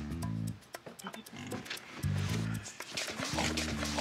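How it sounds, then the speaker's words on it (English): A pig oinks and grunts up close in several short, harmonic bursts separated by brief pauses, with scuffling and clattering noises in between. "It's a pig."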